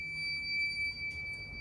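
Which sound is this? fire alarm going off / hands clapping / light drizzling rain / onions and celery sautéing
fire alarm going off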